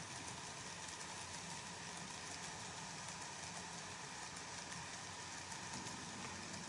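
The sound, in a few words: model trains running on layout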